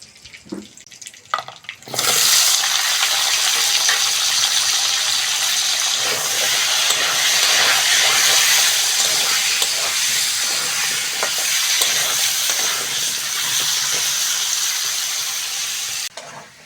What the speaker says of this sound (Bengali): এবার ওই তেলের মধ্যে আলুগুলোও ভেজে নেব।